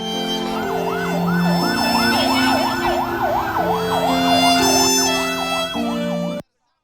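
A loud ambulance siren wails up and down in a fast repeating pattern after the Cianjur, West Java earthquake, with a low horn tone underneath, then cuts off abruptly.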